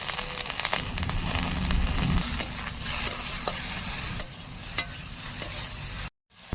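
Okra frying in oil in a pan while being stirred, a bright steady sizzle with scraping stir strokes throughout, then a brief cut to silence near the end.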